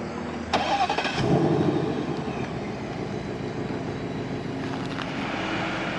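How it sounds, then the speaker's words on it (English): A 2024 Ford Mustang GT 5.0 V8 starting by remote, with a sharp crank and catch into a loud, steady engine idle that holds close by for several seconds with no talk. "just lock the vehicle, then double press the remote start button on the key fob."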